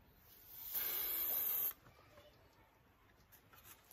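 A short, steady hiss of a 1960s insecticide aerosol spray lasting about a second, close and fairly loud, then quiet room tone.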